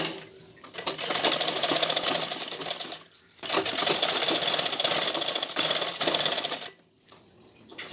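A sewing machine stitching piping cord along the edge of a 42-inch blouse runs in two long, loud bursts of rapid, even needle clatter, each stopping abruptly, with a short pause between and a quiet tail after.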